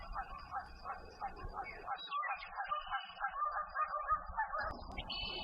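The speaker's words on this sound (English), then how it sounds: "Sometimes Canada geese would come near the nest." Canada geese honk repeatedly in a noisy chorus near a sandhill crane nest, nasal calls overlapping and continuing steadily, moderately close, with a low rumble beneath.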